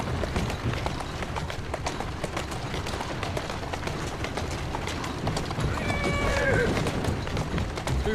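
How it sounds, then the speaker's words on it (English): Horse hooves clip-clop steadily through a carriage ride on the streets of Victorian London in Assassin's Creed Syndicate, with a brief whinny near the end, under continuous spoken dialogue. "Who's a good horse?"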